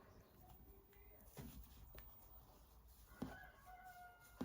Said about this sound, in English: you can hear the cockerels and chickens